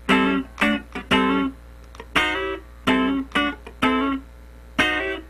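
An electric guitar plays the first bar of a funk rhythm pattern with slides into chord voicings: a run of short, choppy strummed chord stabs with muted scratches between them, close and dry, with no talking.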